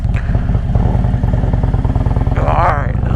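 Motorcycle engine idling low and steady with a regular pulsing rumble as the bike comes to a stop, with a brief rising whine near the end; a voice talks over it throughout.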